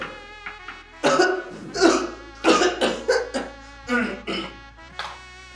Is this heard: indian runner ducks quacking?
no